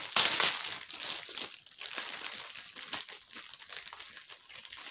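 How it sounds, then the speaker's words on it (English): Plastic bags holding diamond painting drills crinkle and crunch close by, with a sharp burst at the start followed by irregular rustling handling noises and no talking. "We got some crinkling going on."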